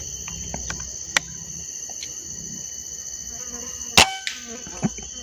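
A gunshot rings out during a pigeon hunt outdoors, one sharp crack a few seconds in, over a constant backdrop of chirping insects, with a few quieter clicks and taps nearby.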